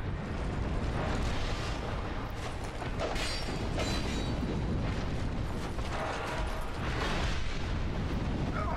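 A roaring fire attack in Dark Souls II fills the space with dense, rumbling bursts and crackle, loud and continuous, with several surging blasts over the churn.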